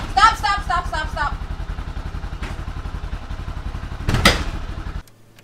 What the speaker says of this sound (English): Tied up a strap to an ATV and tried to pull it out.